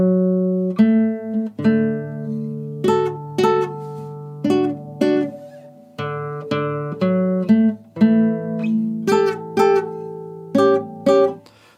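Plucked guitar picks out the opening line of The Blue Danube from Squid Game in standard tuning, clear single notes and double stops in a lilting waltz rhythm, played close and alone.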